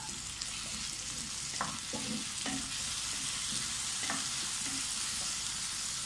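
Ginger, garlic and green chilli frying in a pan, a steady loud sizzle with occasional soft stirring taps throughout.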